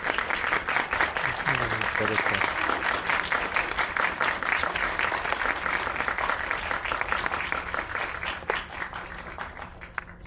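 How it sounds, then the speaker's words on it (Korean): Audience applause greets a film director and two lead actresses at a Korean movie talk event in a cinema: loud, dense clapping fills the whole stretch, with a brief spoken remark over it as it slowly tapers. "큰 박수로 맞이해주시기 바랍니다"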